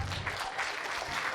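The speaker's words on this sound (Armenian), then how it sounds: "եկեք հերթով ծափահարենք 601 խումբ" Warm, continuous applause for a sixth-grade dance group at a school dance celebration, many hands clapping steadily from a nearby crowd.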